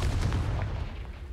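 A Confringo blasting spell bursts in Hogwarts Legacy, a loud booming explosion with rumbling crackle that fades over about a second.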